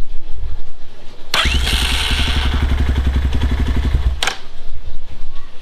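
A Kawasaki MX250 motorcycle fitted with an upgraded battery cranks and fires up close by. A sharp starter onset leads into a rapid, rhythmic cranking chatter for about three seconds, then the engine catches with a burst and settles into idle.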